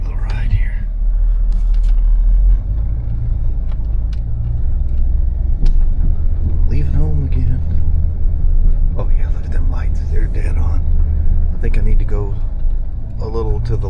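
A Harley-Davidson Pan America motorcycle on the move: a loud, close, continuous engine rumble mixed with wind buffeting, with a voice talking now and then over it.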